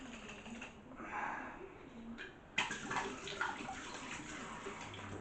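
Water sloshing and splashing inside a bottle being rinsed and shaken, a steady wet churning with a sharper burst of splashing midway, fairly close.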